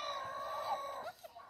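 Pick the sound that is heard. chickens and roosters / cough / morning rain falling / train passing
chickens and roosters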